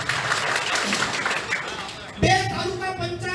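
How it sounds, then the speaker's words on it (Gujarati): Crowd applause at an Aam Aadmi Party political rally in Gujarat rings out as a dense, fairly distant clatter of hands, then a voice cuts in over the tail end. "એટલે તાળીઓના ગણગડાટ"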